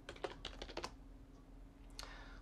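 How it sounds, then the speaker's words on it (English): Quiet blind touch-typing on a computer keyboard: a quick run of light key clicks, a brief pause, then a single final keystroke, close and faint. "So from now on, I will be blind typing again."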